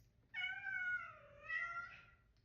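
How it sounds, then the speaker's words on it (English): A house cat gives a single drawn-out meow that dips and then rises again, heard clearly in a quiet room. "That's my cat."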